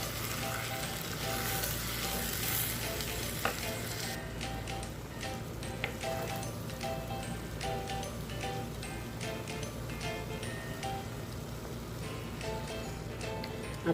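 Kerala style mutton varattiyath sizzles in oil with a steady, close frying hiss and occasional faint ticking stirs, without voices.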